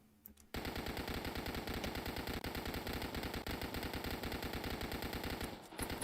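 The Gut Stitcher SMG in Dead Frontier fires one long, unbroken, rapid burst. The shots are loud and close, and the stream of gunfire runs for over five seconds before stopping abruptly.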